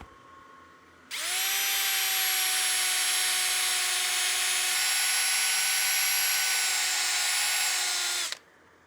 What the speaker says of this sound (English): I want to make sure that drill is moving all the time.